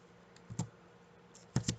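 Quiet keystrokes on a computer keyboard as a library name is typed, a few isolated taps in two small clusters against a faint background.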